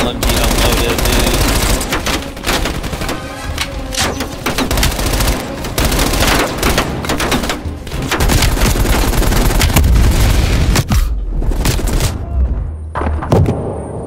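Sustained light machine gun fire in the Call of Duty Cold War campaign, loud rapid bursts rattling almost continuously with booming thuds mixed in, briefly easing near the end before a few last shots.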